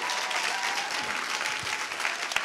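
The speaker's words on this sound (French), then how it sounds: "On peut l'applaudir." Audience at a stand-up comedy show applauds a comedian, a dense, sustained clapping from many hands heard throughout at moderate volume.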